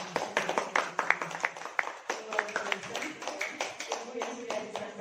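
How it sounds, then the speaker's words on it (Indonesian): An audience of teachers breaks into applause after a presentation, a steady patter of many hands clapping close by with bright, irregular slaps throughout. "kita beri aplaus yang meriah buat"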